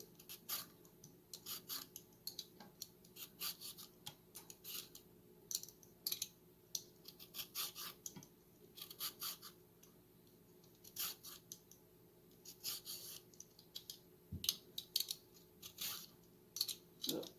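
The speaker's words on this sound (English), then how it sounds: "I'm going to peel the carrots." A single carrot is hand-peeled in a kitchen, giving faint repeated scraping strokes in short bursts with brief pauses, quiet and close with no talking.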